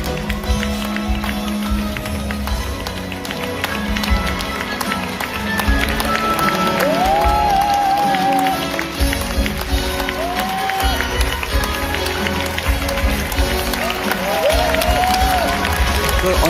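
Audience at a musical's curtain call clapping and cheering in a dense, steady roar that fills the whole stretch, with faint music and scattered voices underneath.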